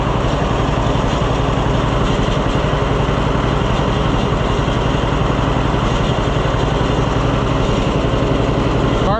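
Oliver 1365 tractor engine, a Fiat 640, idling steadily while it runs down its fuel, a loud, even, rapid mechanical chug that continues unbroken throughout with no voices.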